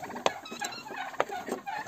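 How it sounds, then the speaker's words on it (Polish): Turkeys gobble in a few short, quick bursts in the snow, fairly close, with no voices. "Indyki się puszą, nie wiedzą, o co chodzi."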